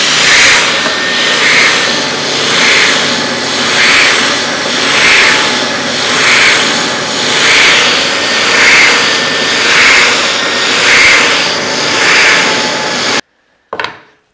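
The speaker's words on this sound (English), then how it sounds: "take it to the bandsaw, trim this down, put it on the spindle sander" A bandsaw and spindle sander whine steadily while shaping wood for a rebate plane, the grinding noise swelling and fading in a regular rhythm, then cutting off abruptly.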